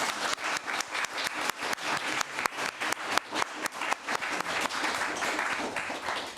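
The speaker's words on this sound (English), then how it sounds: "Please give a warm applause for these beautiful women." Applause from an audience at an evening event, fairly faint and distant, made of distinct individual claps that merge into a ragged, uneven patter for several seconds.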